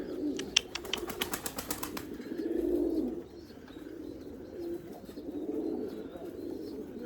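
Domestic Erzurum white pigeons cooing in a loft, low rolling coos that swell and fade in several phrases, preceded by a quick burst of rapid clicks or wing flutters, fairly close with no voices.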